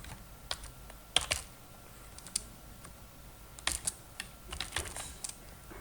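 A password is typed on a computer keyboard in short bursts of crisp, close key clicks, with uneven pauses between the clusters and a louder flurry near the end.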